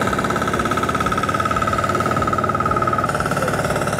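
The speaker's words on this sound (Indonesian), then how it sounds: "dia memiliki mesin penggerak diesel 9 HP" A 9 HP diesel engine on an FTL720D mini tiller runs steadily with a rapid, even chugging throb, loud and close, with no talk over it.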